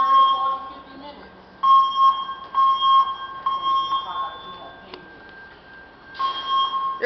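A workplace fire alarm sounds as a steady tone with bursts of ringing, continuing under nearby people talking.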